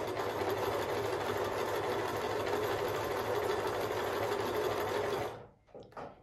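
A Pfaff Select 3.0 sewing machine runs a continuous stitch with a steady, close whirring hum and rapid needle chatter, then stops abruptly, leaving a couple of faint clicks and handling sounds.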